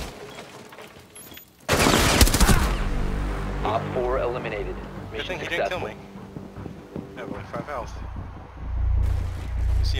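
Gunfire in Rainbow Six Siege on the Chalet map: a sharp loud burst of shots early on, followed by faint scattered shots and voices talking over the game.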